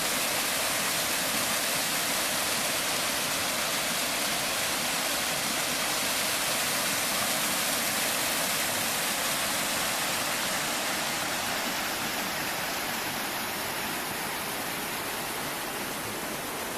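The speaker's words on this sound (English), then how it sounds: "Staunton River." Rushing water of the Staunton River along a mountain trail, a steady, loud, broadband wash with no pauses, close by and continuous with no voices over it.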